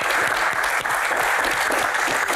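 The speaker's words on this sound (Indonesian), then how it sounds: "Tepuk tangan untuk Pak Tahir." A studio audience at a Q&A show bursts into loud, continuous applause, a thick wash of clapping filling every moment with no pause.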